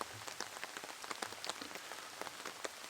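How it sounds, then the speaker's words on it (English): Heavy rain falling on an outdoor disc golf course in Nantucket, a steady dense patter of drops hitting the surfaces all around, faint and continuous with no voices. "It's more than just a drizzle."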